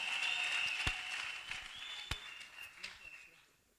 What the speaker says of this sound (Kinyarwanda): Mukomera amashyi cyane.